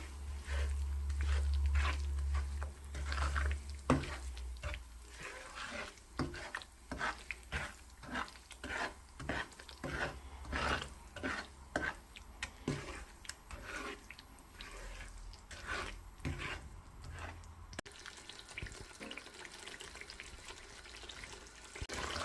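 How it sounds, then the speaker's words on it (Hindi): Semolina (suji) is slowly roasted in a pan for halwa, a soft dry scraping as a spoon stirs it in steady repeated strokes, quiet and close, with no talking. "और आहिस्ता आहिस्ता से भूनना है"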